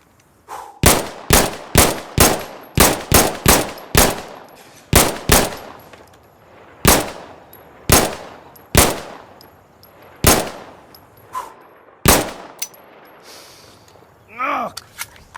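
An L106A1 pistol fires in the video game Insurgency Sandstorm: sharp, loud single shots in quick runs, then slower spaced shots, ending with a metallic reload clatter.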